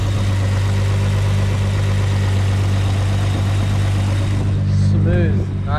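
A built Nissan RB25DET engine in an R33 idles steadily and loudly with a smooth, even rumble and no lifter ticking; a voice speaks briefly near the end.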